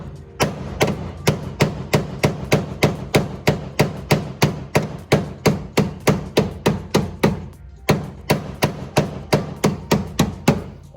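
A hammer strikes the fender of a Fairlady Z S30 in a steady, evenly spaced series of sharp, close metallic blows, roughly three per second, with a brief pause partway through and no talk.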